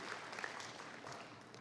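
Faint, steady audience applause at a talk on environmental justice, a soft continuous patter of many hands heard from a distance without a clear beginning or end.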